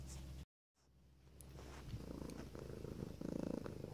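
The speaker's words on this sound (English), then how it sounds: "let's have a look at the cat." A house cat purrs steadily at close range, a low rumbling buzz that builds after a brief silent gap and grows louder toward the end, with no talking.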